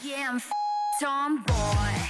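A short, steady electronic beep from a 2022 K-pop song, sounding alone for about half a second between sung vocal phrases, with a beat kicking in afterward.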